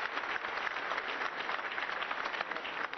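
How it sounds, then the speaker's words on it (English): A church congregation claps together at a live Sunday service, a dense, even wash of applause lasting three seconds, moderately faint and with no talking over it. "Let's clap our hands for our Lord Jesus Christ."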